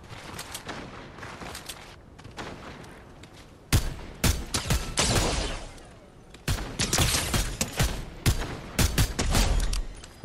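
Gunfire in the video game Fortnite: scattered shots at first, then dense loud bursts of rapid shooting from about the four-second mark, with brief pauses between volleys.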